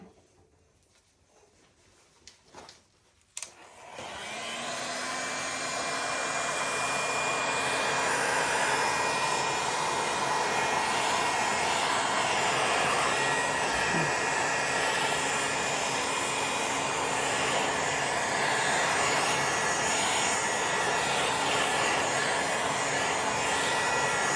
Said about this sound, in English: I think the heat gun, I might just blow it around a little bit.